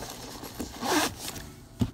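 A zipper on an inside pocket of a handbag is pulled in one short, close, raspy stroke, ending with a small soft knock.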